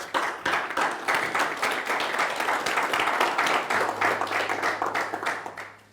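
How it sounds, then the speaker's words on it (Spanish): A church congregation gives sustained applause during a Spanish-language sermon, dense clapping lasting several seconds at a steady loud level before tapering off, with a faint low hum underneath. "¿Por qué no le regalo un aplauso al Señor?"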